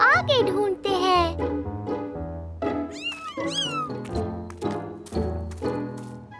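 A cartoon kitten gives several high, bright meows in quick succession, close and clear over music, with a voice in the clip.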